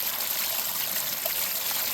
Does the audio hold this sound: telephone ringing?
no